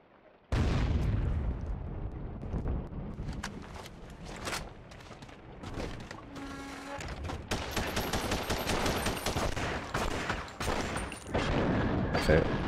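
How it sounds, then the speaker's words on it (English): Gunfire and a grenade blast in The Punisher on PS2, with dense bursts of shots and heavy booms filling most of the clip after a brief quiet start, loud and continuous. "Grenade."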